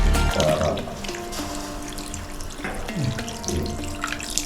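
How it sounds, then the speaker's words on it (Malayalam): Water poured into a pot of beef curry: a loud splashing gush at the start, then a steadier running, bubbling pour with scattered clinks, close by and without talk. "നമ്മൾ കുറച്ച് വെള്ളം ഒന്ന് ഒഴിച്ചു കൊടുക്കണം"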